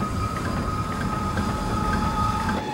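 A cable-pulled funicular train hauling cargo toward São Paulo rumbles steadily, with a constant loud rolling drone and faint metallic tones throughout, and no voices.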